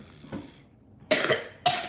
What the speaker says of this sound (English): You cough in your room.